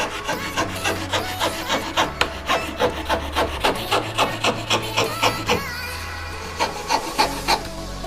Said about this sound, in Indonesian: Sini kita akan potong manual saja ya, menggunakan gergaji triplek seperti ini teman-teman.